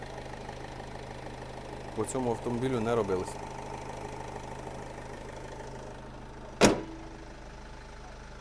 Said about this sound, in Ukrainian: Ми чуємо роботу мотора, це Євро 5 двигун.